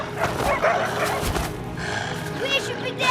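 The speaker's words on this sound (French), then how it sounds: "Allez les chiens, vite, vite!" Dogs urged to attack, excited barking and yipping mixed with shouting voices and commotion, loud and close throughout.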